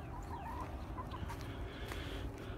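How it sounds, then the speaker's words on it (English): Chickens cluck and chatter inside a homestead chicken tractor, with several birds calling in short, overlapping bursts at moderate distance over a steady outdoor background. "this is where we keep our chickens at"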